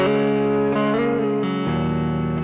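An electric Telecaster-style partscaster guitar runs through a compressor pedal, ringing out sustained, evenly levelled chords that shift pitch a few times, with no talking over it.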